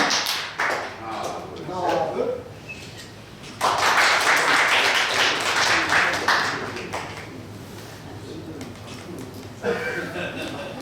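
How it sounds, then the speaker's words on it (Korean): Audience in a university chapel at a Korean alumni association New Year gathering claps together in encouragement, a loud burst of applause that swells midway and then tapers, with talk around it. "우리 한번 힘찬 격려의 박수를 서로 치도록 하겠습니다"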